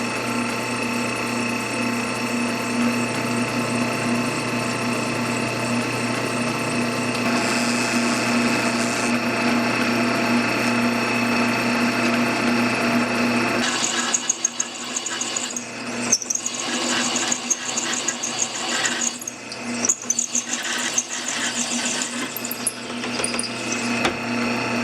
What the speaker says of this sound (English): Let's drill a hole with the drill and ream it